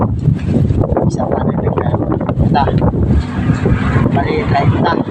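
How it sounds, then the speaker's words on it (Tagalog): Strong wind buffeting an outdoor microphone as a loud, continuous rumbling roar that fills the whole stretch, with people talking over it. "ngayon sobrang lakas ang hangin eh"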